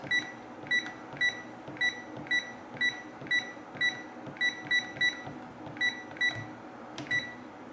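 Short electronic beeps from a Texecom Premier alarm keypad, about fifteen evenly spaced key-press tones sounding one after another, clear and close over a faint room hum.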